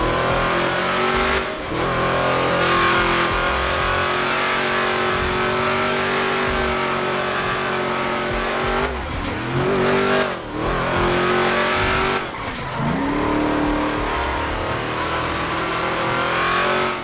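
A car drifting in GTA video game, engine revving hard and continuously with brief dips as it slides, loud and close with tyre squeal, no talk.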